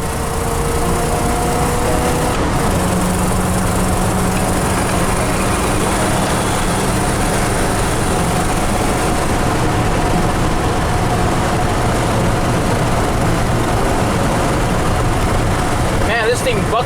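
A 1969 Ford Ranger truck engine runs loud and continuous as the truck drives, a steady low roar with rough bucking texture and no voices over it.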